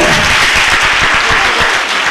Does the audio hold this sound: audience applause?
yes